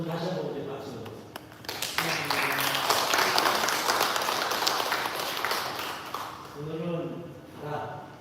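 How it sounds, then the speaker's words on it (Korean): Congregation applauding during an Anglican Sunday church service, a broad, sustained wash of clapping in a large room that swells and then fades, with talk heard before and after it. "두 분 다시 한번 우리 박수."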